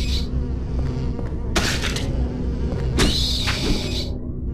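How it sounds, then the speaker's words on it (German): Giant mosquito-like creatures in Silent Hill 4 buzz through a forest path, a droning whine rising in two sharp bursts over a steady low background hum. "Die klingen wie riesige Mücken sind, aber irgendwas sind das."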